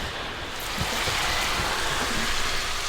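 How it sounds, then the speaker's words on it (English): Hail pelting steadily down on a tent or camp gear during wild camping near Stonehenge and Avebury, a dense continuous patter of small impacts that thickens slightly after the first second, close and fairly loud with no voices. "Oh my god, it's not even rain, it's hailing now."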